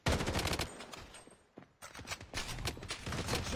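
Rapid automatic gunfire in the mobile shooter game Blood Strike, with bursts of sharp shots crackling in quick succession, a brief pause midway, then more sustained firing at moderate loudness and no speech.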